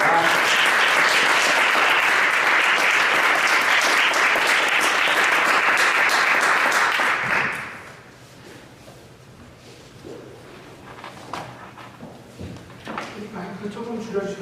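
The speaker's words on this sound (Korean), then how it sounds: "박수로 맞이하겠습니다." A church worship audience claps to welcome a preacher, with loud, dense applause for about seven seconds that then fades out, followed by quieter room sounds and a voice talking.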